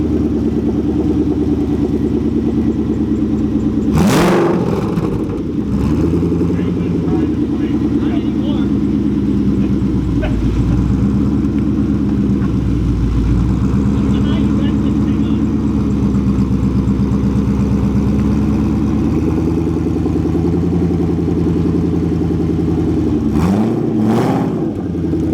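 A Whipple-supercharged Mustang Cobra engine runs close up, loud and steady, with rising and falling revs and sharp throttle blips near the start and again near the end.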